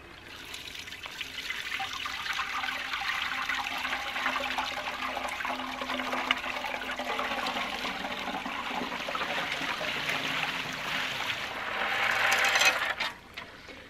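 Water rushes steadily through a Coanda screen hydro intake, a continuous broadband splashing and trickling flow heard up close, swelling a little louder near the end before dropping off.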